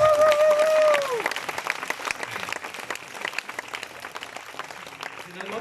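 A live audience claps for an artist at a comedy show, a dense burst of applause that follows a brief sung or whistled tone, then thins into scattered claps.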